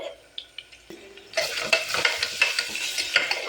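Onions and ginger garlic paste frying in ghee in a cooker. A few light taps come first, then a loud, close sizzle starts and continues under repeated clattering stirs.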